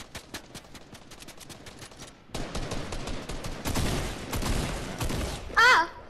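Rapid bursts of gunfire in the video game Fortnite, sharp repeated shots crackling in quick rhythm, then a denser, louder stretch of firing with a brief bright effect near the end; no talk.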